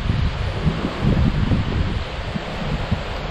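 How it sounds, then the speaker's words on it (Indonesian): Strong wind buffets the microphone at Papago International Resort in Taitung, a loud, rough, gusting rush with rustling that rises and falls and no talking. "Angin cukup kencang."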